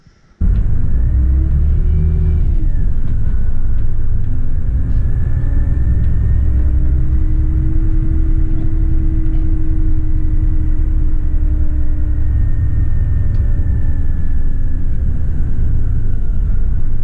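A coach bus driving on a road trip through Spain, Morocco and Portugal, with a loud continuous engine rumble and road noise from inside the cabin and gear changes shifting the engine tone.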